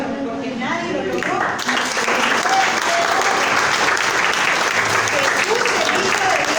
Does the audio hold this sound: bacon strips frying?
no